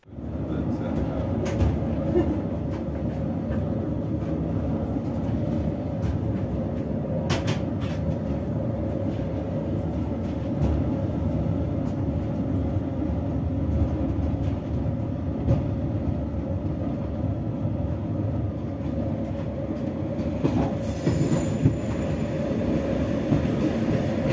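A passenger train runs along Hungary's railway line 94 near Szendrő, its steady rumble and rolling wheel noise continuing throughout at a constant level, with a few brief clanks and faint squeals.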